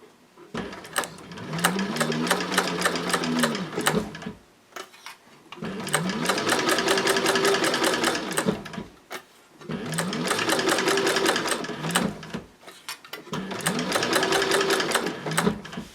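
A Techsew 4800 Pro sewing machine stitches at a 5.0 stitch length in four close, loud bursts of rapid mechanical whirring, each several seconds long and separated by brief pauses.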